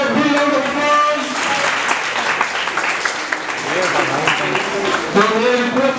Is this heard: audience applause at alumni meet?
yes